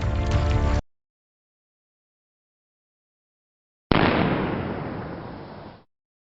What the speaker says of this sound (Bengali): আমাদের বন্দুকের আওয়াজে ওরা ভয় পেয়েছে